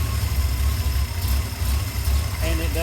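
A 1964 Mercury Comet's engine idles with a loping, uneven rumble, a steady low throb that shakes the car, heard up close with no talking.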